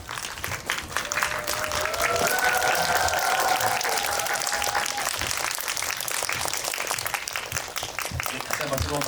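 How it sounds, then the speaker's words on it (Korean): An audience at a film talk event claps loudly and continuously to welcome a guest, with cheers and whoops rising over the dense applause partway through. "큰 박수로 환영해 주시면 감사하겠습니다"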